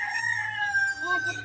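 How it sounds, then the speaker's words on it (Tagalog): A rooster crows in one long drawn-out call at a rural provincial yard, fairly close and clear, with a faint low hum beneath. "Nandun yung iba yung mga manok."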